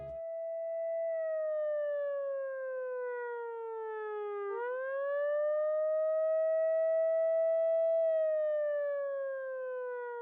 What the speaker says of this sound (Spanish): Podemos pensar en la repetición de la sirena de la ambulancia